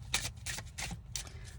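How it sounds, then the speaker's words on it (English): Card deck shuffled by hand in several quick riffling bursts, close and crisp, with short pauses between each flurry of card edges. "So I'm just gonna shuffle through these and take one."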